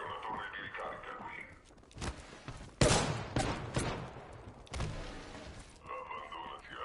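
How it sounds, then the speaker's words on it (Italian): Gunfire aimed at the player in a PS5 video game comes as several sharp, loud bursts of shots with quieter stretches between them, over game background sound. "Mi stanno sparando"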